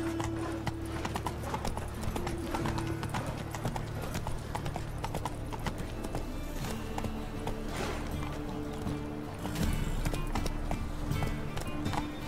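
Roach, the horse in The Witcher, gallops with rapid, rhythmic hoofbeats close and loud, brief game sounds layered over the running pace.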